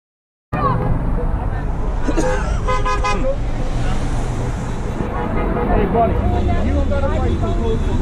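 Car horns honk repeatedly at a street political rally, a series of toots rising over steady traffic noise and crowd babble, with people talking nearby.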